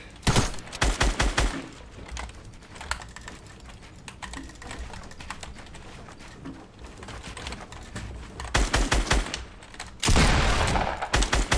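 Rapid bursts of gunfire in Fortnite during a 1v1 build battle on a Pro Playgrounds map, with dense clattering volleys at the start, sparser shots through the middle and heavy sustained fire toward the end, close and loud.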